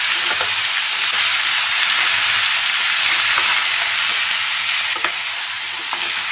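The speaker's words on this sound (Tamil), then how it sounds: "சால்ட்டையும் சேர்த்து நல்லா ஃபுல்லாக மிக்ஸ் பண்ணி விட்டுருங்க." Chopped chayote (chow chow) with salt sizzles and fries in a pan while being stirred, a steady close crackling hiss with soft scraping strokes throughout and no voices.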